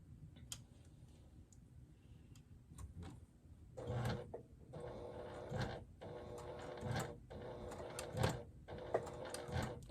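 A sewing machine stitches a bulky wristlet strap closed in short slow bursts, its rapid mechanical ticking starting and stopping with quiet pauses between runs, close and without talk.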